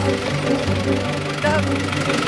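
Someone's tractor engine runs steadily at a low, throbbing idle with a constant rumble, while voices talk over it throughout.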